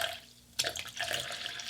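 Lukewarm water splashes into a container for bread dough, a sudden close pour starting after a short quiet moment and running on steadily.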